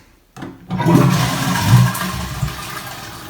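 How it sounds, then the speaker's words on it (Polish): A toilet flushes after a dual flush button is pressed, a short click followed by a loud rush of water that swirls steadily and then starts to tail off, with no talking. "małe kółko odpowiada za spłukiwanie niewielką ilością wody, duże kółko odpowiada za spłukiwanie dużą ilością wody"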